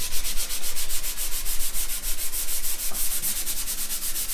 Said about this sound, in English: I'm using like 400 grit here, just so I'm not putting a low spot in it